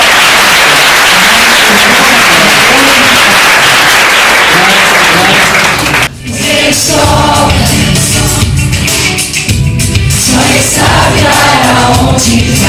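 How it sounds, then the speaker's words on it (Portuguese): A church congregation at a Holy Spirit worship service claps together for about six seconds, a loud, dense burst of hands, before it cuts abruptly to music. "As palmas"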